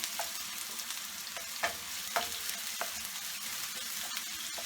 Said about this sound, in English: we're going to saute this until they're translucent